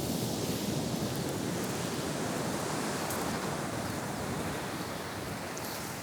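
Ocean surf rolling in as a steady, loud wash of broadband noise, continuous and unbroken, with some wind rumble at the microphone and no talking.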